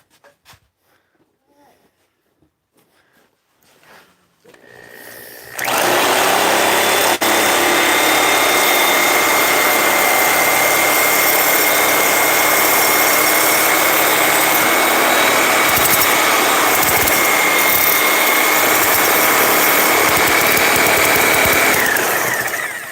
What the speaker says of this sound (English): A reciprocating saw.